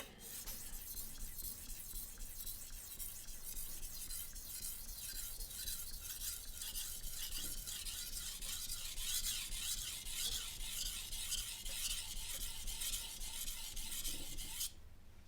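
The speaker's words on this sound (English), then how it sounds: "The push and pull is by far the most aggressive of the sharpening techniques" A kitchen knife is sharpened with aggressive push-and-pull strokes, a steady, loud metallic rasp that runs unbroken for about fifteen seconds before stopping abruptly.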